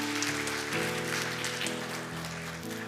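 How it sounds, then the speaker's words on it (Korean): Warm, steady applause from a church congregation during a Sunday worship service, a sustained wash of clapping heard alongside soft organ-like held chords. "우리 큰 박수로 축복하겠습니다"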